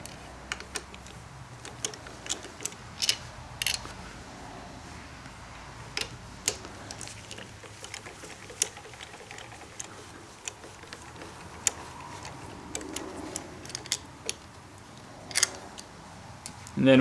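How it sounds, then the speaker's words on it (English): Sparse, quick clicks and ticks of a speed tool spinning out the handlebar riser bolts on a Kawasaki Concours 14, spread irregularly over a quiet background with no talking. "I'm going to use a different tool called a speed tool. Get these out a little quicker."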